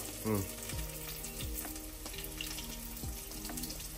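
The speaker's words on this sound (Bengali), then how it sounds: "সিদ্ধ করে রাখা কাঁচকলা গুলো একটু ভেজে নেব" Boiled green plantains frying in oil in a pan, a continuous close sizzle with several scraping strokes of a spatula and light clinks, fairly quiet overall.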